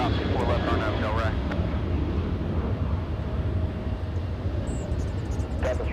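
An airliner takes off from runway 24 left at LAX, a constant loud broadband roar of jet engines heard at a distance. Faint radio chatter and brief tonal blips sit under the noise.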